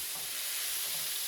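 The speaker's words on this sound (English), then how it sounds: "I'm going to let the pork cook a bit, just leave it there so it can cook." Small-cut pork left to cook in a pan for Puerto Rican rice, giving a steady, even hiss of frying fat, close and unbroken with no talking.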